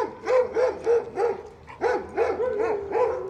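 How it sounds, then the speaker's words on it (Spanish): Dog barking on a city street, a run of about ten loud, close, evenly spaced barks in two bursts with a brief pause between, and no talking over them. "yo no puedo evitar que el perro ladre"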